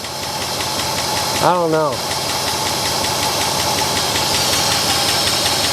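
A 1963 Oldsmobile 98 engine runs steadily and loud throughout, with a brief rising whine partway through; someone speaks briefly over it.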